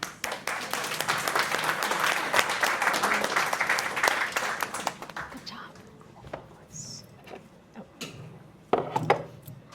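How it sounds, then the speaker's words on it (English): Audience applause at a tech community meetup, dense clapping for about five seconds, then thinning into scattered claps and fading room noise. "give another round of applause for Nicolas, Reyes"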